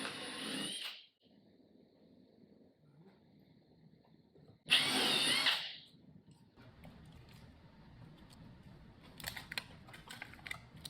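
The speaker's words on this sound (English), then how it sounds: "Remove the rivets on each side of the threshold with a narrow drill bit" A power drill with a narrow bit drills out rivets on the threshold of a walk-in freezer, two short high-pitched whining bursts separated by quiet handling noises and light clicks.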